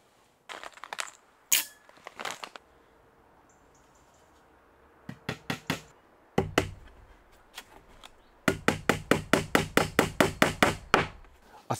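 Small nails hammered into window strips: sharp, distinct taps in short clusters, then a long rapid run of evenly spaced strikes, close and fairly loud in a quiet room.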